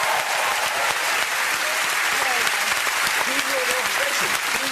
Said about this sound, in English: a round of applause for Stephen O'Remus